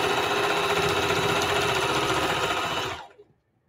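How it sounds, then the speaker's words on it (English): A sewing machine sews diagonally across a rag quilt, humming steadily and close in a continuous run before it quickly winds down to silence. "So all I'm doing is sewing from diagonal to diagonal."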